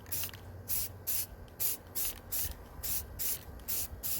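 Spray paint hissing onto a glitter tumbler in about a dozen short, evenly spaced spurts, close and fairly quiet, with brief pauses between each burst.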